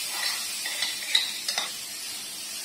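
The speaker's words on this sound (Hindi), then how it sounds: "और इसको धीरे धीरे से बढ़िया हम पका लेंगे" Marinated paneer sizzling in a pan, a steady bright hiss with a few soft spatters and light utensil taps, close and fairly quiet with no talking.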